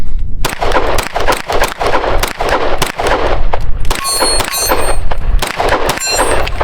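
Repeated handgun or rifle shots on an outdoor shooting range, a rapid string of loud, sharp reports with ringing steel-target clangs following several of them, no talking.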